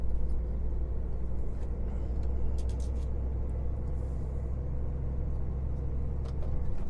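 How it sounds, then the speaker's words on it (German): A large diesel truck engine of about 12.5 litres drones steadily at close range, a low continuous rumble with faint clicks and rattles above it and no talk. "Das ist ein großer Dieselmotor."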